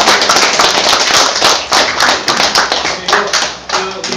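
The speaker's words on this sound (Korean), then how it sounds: "감사의 박수 부탁합니다" An audience applauds at a lecture hall event: dense, sustained clapping, loud and close, that fills the whole four seconds with a busy crackle of many hands and no talking over it.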